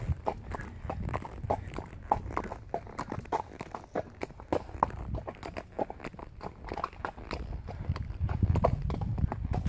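Horse hooves clip-clop in a steady walking rhythm on a ranch trail ride in the countryside, close and continuous for the whole stretch, with no talking over them.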